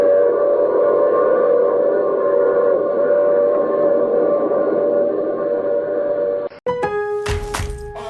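A steady, loud train rumble with tonal whistle-like layers runs as a sound effect in an old radio drama, then cuts abruptly to a sharper burst of horn-like tones at the end.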